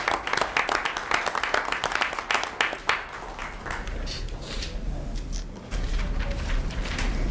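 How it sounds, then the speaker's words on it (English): Audience at a village board meeting applauding: steady dense hand clapping from a room full of people that thins out, followed by a low rumbling room noise. "let's give her a round of applause"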